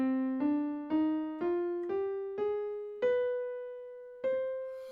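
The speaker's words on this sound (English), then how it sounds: "There's also a scale called the harmonic minor." Single piano notes climb a C harmonic minor scale with a raised B natural, one struck tone at a time at an even, unhurried pace. Each note rings and fades cleanly, with no voices.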